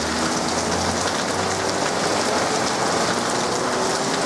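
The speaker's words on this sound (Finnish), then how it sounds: "Vais mennä vähän jo ohi tää sade." Steady heavy rain falls on surfaces as a dense, loud, unbroken hiss of pattering drops, with no voices.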